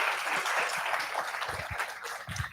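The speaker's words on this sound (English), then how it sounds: "A round of applause again." A lecture audience at a college logistics talk gives a short round of applause, moderately loud and thinning toward the end, with a few low knocks or footsteps underneath.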